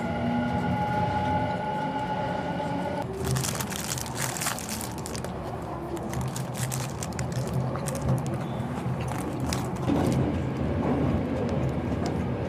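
Tokyo subway limited express train at Otemachi station, a steady rumble with a whining tone that gives way to loud rattling, clattering car noise as the train runs, continuous and close.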